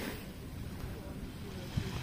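Ocean waves washing onto a beach, a steady broad roar and wash with wind noise against the microphone, continuous and fairly close throughout.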